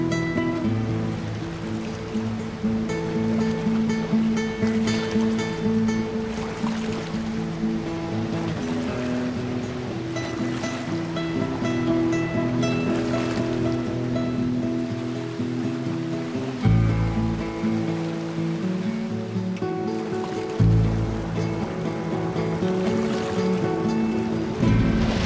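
A boat travels along a river in a remote Central American valley, its motor giving a continuous steady drone over washing water that runs without pause for the whole stretch, with no one talking.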